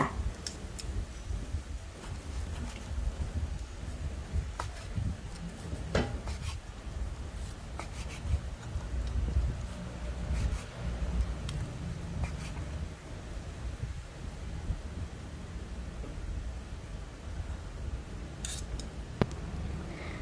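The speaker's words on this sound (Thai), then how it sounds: "เสร็จแล้วเดี๋ยวเรามา หั่นคอหมูย่างที่เราได้ ย่างกับกระทะเทฟลอนเสร็จเรียบร้อยแล้วค่ะ มาหั่นกันค่ะ" A knife slices grilled pork neck cooked in a Teflon pan on a cutting board, giving a run of soft, scattered scraping and tapping cuts at close range with no talk.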